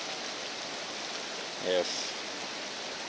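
Steady rushing of several mountain streams running close beside a backcountry campsite in Elk Lakes Provincial Park, a continuous even wash of water with one brief word spoken over it.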